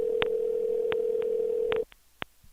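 Payphone dial tone: a steady, clean hum held for nearly two seconds, broken by several short clicks and blips, then cutting off into faint line noise with a couple more isolated clicks.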